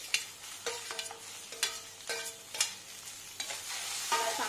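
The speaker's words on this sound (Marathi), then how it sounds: "चांगलं परतून घ्यायचं आहे आपल्याला।" Tomatoes sautéing in a pan for paneer kofta gravy, giving a steady sizzle broken by several short bursts of stirring, moderately loud and close with no talk.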